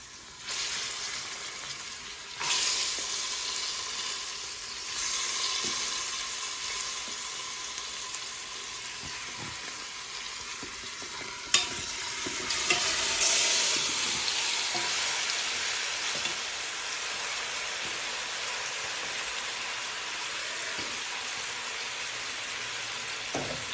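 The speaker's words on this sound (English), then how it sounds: "And then I'm gonna be adding my meat to the pot." Goat meat fries in a pot for Jamaican curry goat, a steady close sizzle with bursts of louder crackle as pieces go in and get stirred, plus an occasional clunk.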